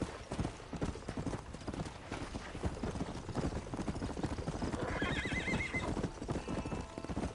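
A horse in the western video game Red Dead Redemption gallops with steady, close hoofbeats and gives a clear whinny partway through, with a faint voice in the background.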